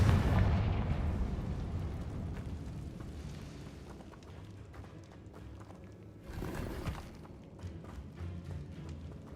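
Confringo fire-blast spell from Hogwarts Legacy gameplay: a heavy booming burst at the start that rumbles and fades into a low roiling wash, with a second rougher surge of crackling impact noise a few seconds later.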